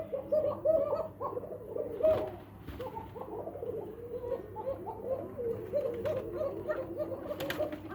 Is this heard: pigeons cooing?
yes